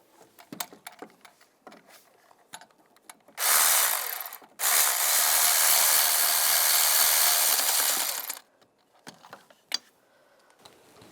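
A ratchet tightens the water pump bolts on a 1999-2005 Volkswagen Jetta, with two sustained bursts of rapid clicking close by, set between scattered softer clicks and knocks.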